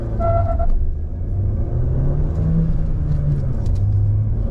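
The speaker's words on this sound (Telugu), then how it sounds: "ముందు అక్కడ కార్ అయితే వెళ్ళిపోయి 0 to 100 స్పీడ్ టెస్ట్ చేద్దాం" Mahindra XUV700 accelerating hard through the gears in a 0–100 speed test, a steady loud engine drone with rising tone inside the cabin, continuous throughout without talk.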